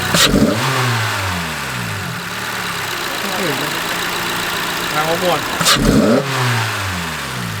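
A Honda Civic fitted with a new air intake is revved hard at close range, the engine climbing and falling in repeated sweeps while people talk over it.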